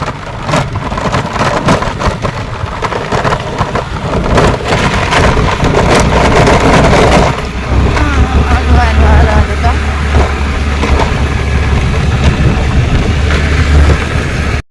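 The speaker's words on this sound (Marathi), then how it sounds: "गाडीचा खुडकुड खुडकुड आवाज येतो ना" A car driving on a rough, poorly surfaced road toward the Dabhol jetty, loud engine rumble and wind buffeting with knocking rattles throughout, and people talking in the cabin.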